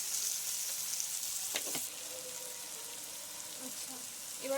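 Egg roll ingredients fry in a pan at home, a quiet steady sizzle with a couple of brief utensil clinks and scrapes, close but soft, without clear talk.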